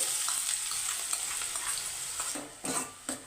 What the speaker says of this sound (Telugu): ఇప్పుడు అందులోకి ఒక కప్పు వరకు చిన్నగా తరిగి పెట్టుకున్న ఆనియన్స్ వేసుకోవాలి